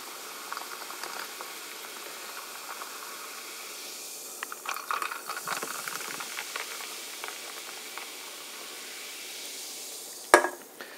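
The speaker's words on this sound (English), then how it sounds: "you open up the PC Pineapple Coconut Sparkling Water, and you pour it into this glass." PC Pineapple Coconut sparkling water poured into a glass: soft steady fizzing and crackling bubbles with faint splashes, ending in a sharp clink near the close, alone with no talk.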